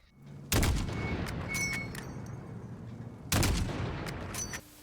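.338 Lapua Magnum sniper rifle firing in Call of Duty: two heavy, booming single shots about three seconds apart, each with a long rolling echo tail and metallic bolt clicks between them, close and loud.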